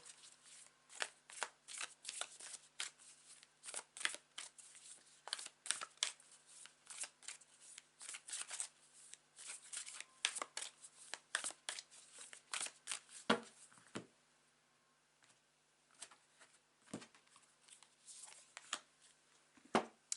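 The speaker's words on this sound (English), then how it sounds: "I'm going to take these two cards here, and then one from this one" Tarot cards being handled and shuffled at close range, a long run of crisp riffling flutters and soft slaps, busy at first, then sparser with a short quiet gap near the end, with no talking.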